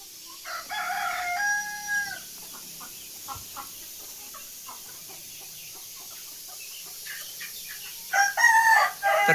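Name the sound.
free-range chickens clucking and rooster crowing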